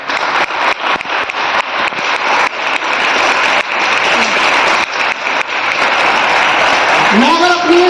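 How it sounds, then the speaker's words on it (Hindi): Audience at a company anniversary program gives loud applause, dense rhythmic clapping from a big indoor crowd that carries on steadily, with a brief voice or tone rising near the end. "उन सबके लिए एक बार जोरदार ताली बजाइए।"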